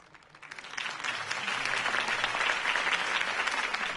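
Crowd applause after Harvey Dent's campaign speech in the Batman Telltale series game, swelling in from quiet to a sustained, fairly distant roar of clapping that holds steady.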